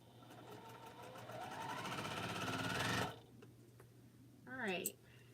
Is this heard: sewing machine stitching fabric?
yes